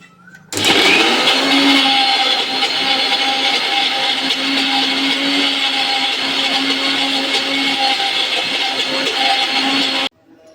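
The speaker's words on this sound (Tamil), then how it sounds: "இது நல்லா மிக்சியில் பவுட்ரு பண்ணிக்கிறோனுங்க." A kitchen mixer grinder powders roasted cowpeas and dried chillies, running as one loud, continuous, close whirring roar for about ten seconds before stopping abruptly.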